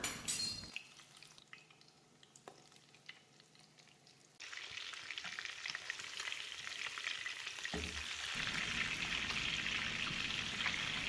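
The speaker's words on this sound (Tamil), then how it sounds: "பேனோட சைஸை பொறுத்து 2-3 போட்டு நம்ம ஃப்ரை பண்ணி எடுத்துக்கலாம்" Mutton chapli kababs frying in a pan of oil, starting as a quiet low sizzle, then swelling into a loud, continuous crackling hiss from about four seconds onward.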